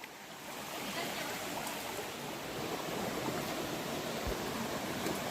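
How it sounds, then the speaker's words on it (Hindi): Water pouring steadily from a dam in the Girnar hills, a continuous broadband rush that stays fairly loud and even throughout, with no voices over it. "वो वाला डैम है ना, वहाँ पे पानी आ रहा है."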